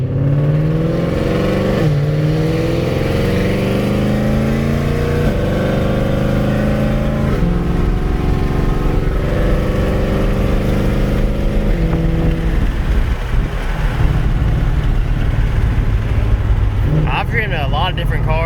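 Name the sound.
2020 Ford Shelby GT500 engine revving on a dyno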